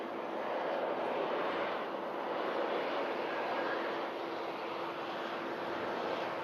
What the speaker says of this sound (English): As the One World Finnair arrives in on 2-3 right